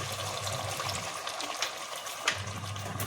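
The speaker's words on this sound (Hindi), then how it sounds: "इसमें थोड़ा से पानी डाल के भून लेंगे" Water is poured into a pan of frying chicken korma masala, producing a steady hissing, bubbling sizzle with faint splashes, loud and close throughout.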